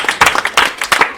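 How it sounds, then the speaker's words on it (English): A church congregation claps hands in a quick, uneven rhythm, with many loud, close slaps running together across a short burst. "Can we clap hands for Jesus?"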